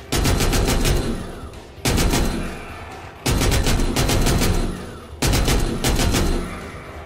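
Gunfire from the zombie shooter game The Walking Zombie, with three loud bursts of rapid automatic shots, each cut off by a short gap, as if during reloads.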